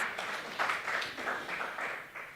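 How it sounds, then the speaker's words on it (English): Brief, soft applause from an audience at a regional innovation and closure event, several seconds of muffled, even clapping heard from some distance. "Clap for yourselves."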